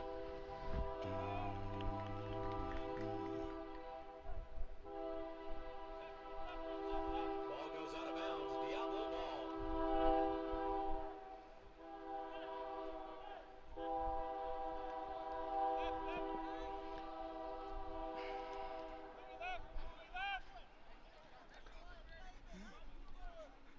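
Train horn sounding with a long sustained blare as rail cars pass near a soccer field during a Laredo Heat SC at Denton Diablos match, the horn holding steady and fairly loud for most of the stretch beneath crowd and field noise.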